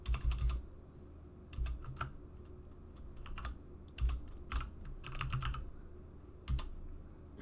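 Keys clatter on a computer keyboard during terminal file commands, coming in short irregular bursts of clicks with brief pauses between, close and moderately loud with no voices.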